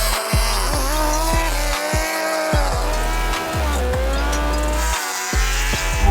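A Rimac supercar races a MotoGP bike and a tuned 380-horsepower Suzuki Hayabusa. A loud, close engine screams up through several gears, with short breaks between shifts and some tyre squeal under the roar.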